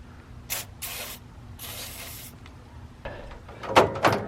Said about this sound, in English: we're going to soak that in penetrating fluid on both sides and just keep trying to work it until it moves freely again